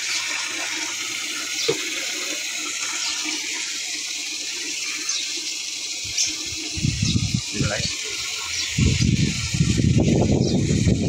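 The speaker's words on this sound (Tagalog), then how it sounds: "pupunuin natin yan guys ng mahiwagang tubig" Water gushes into a container, building in bursts and growing louder toward the end over a steady background hiss.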